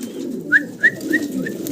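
Fancy pigeons in breeding condition give a few soft coos over a steady low background hum, followed by a series of four short rising chirps close by.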